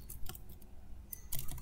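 Quiet clicking keystrokes on a computer keyboard while writing Leaflet JavaScript code, a few irregular clusters of taps separated by short gaps, close-miked but soft.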